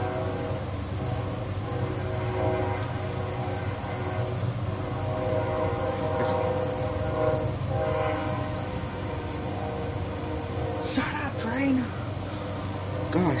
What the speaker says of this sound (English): I'm doing a video because y'all could hear the train.